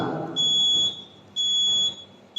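An electronic alarm sounds during a religious lecture, giving two long, loud, high-pitched beeps separated by a short gap, with a third beep just starting at the end.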